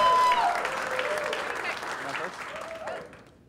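Audience applause for volunteers at a tech startup meetup, a full burst that tapers off toward the end, with a few voices and whoops mixed in.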